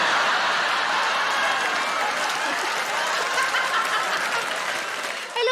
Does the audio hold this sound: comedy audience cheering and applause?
yes